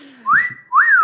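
A person whistles an imitation of a car's wolf whistle horn: two quick rising-then-falling whistles, close and clear, with nothing else around them.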